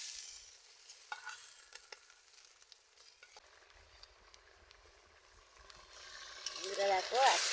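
Fried bele fish pieces go into boiling curry in a pan, with quiet scraping and stirring, scattered clinks, and a louder bubbling sizzle swelling near the end.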